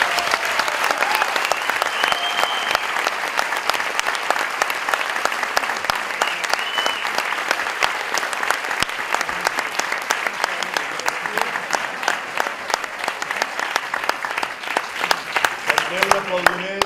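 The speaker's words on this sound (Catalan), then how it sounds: "I després d'això, doncs aquest aplaudiment de l'any." Sustained audience applause fills the room at a gathering, a dense, steady patter of many hands clapping for about seventeen seconds, with a few voices briefly rising above it.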